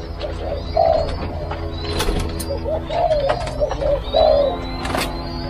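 Captive spotted doves at a breeding setup give a series of soft, low cooing calls close by, spaced irregularly over a constant background hum with scattered clicks and small chirps.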